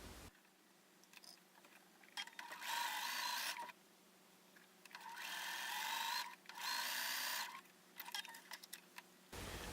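A sewing machine stitching the seams of a star quilt block, running in several bursts of rapid whirring stitches separated by short pauses and handling sounds, close and clear with no talk.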